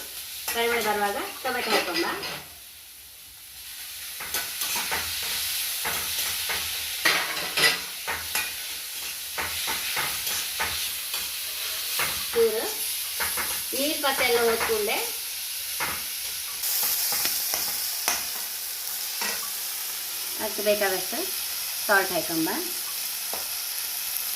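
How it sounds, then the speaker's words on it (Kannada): Onions roasting in a pan for bread siyali, a soft steady sizzle with frequent stirring scrapes and clinks, close by, while someone talks over it intermittently. "ಈರುಳ್ಳಿ ರೋಸ್ಟ್ ಹಾಕೊಳ್ಳೆ ಪರಿಮಳ ಬರ್ತಾ ಇತ್ತು ನೋಡಿ"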